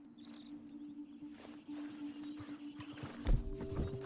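Horse in the video game Red Dead Redemption 2, with hoof clops and a snort or whinny near the end over steady outdoor ambience and faint birdsong.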